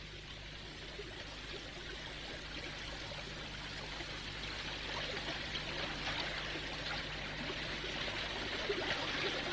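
Steady rushing of river water flowing, a broad continuous wash that swells slightly toward the end, with no voices over it.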